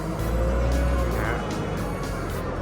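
A Komatsu WA150-5 wheel loader's diesel engine runs while the machine drives, a loud, close, continuous rumble that holds steady with only small shifts in pitch.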